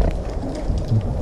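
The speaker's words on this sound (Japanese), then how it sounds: "意外と雨が強い" Heavy rain falls outdoors as a loud, dense, steady wash of noise, close and continuous throughout the brief moment.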